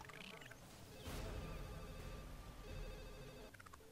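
Telephone ringing inside The Sims video game, a bright repeating electronic bell pattern with game sound effects and background music around it, at moderate level.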